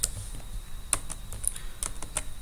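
Fingers tap an ISBN out on a computer keyboard in a quick, uneven run of crisp, close keystrokes over a faint steady hum.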